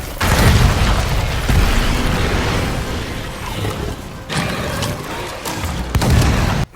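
Loud, continuous booming explosions and rumbling in the video game Monster Hunter World, dense and layered with a few sharper bursts near the end, with no talk over them.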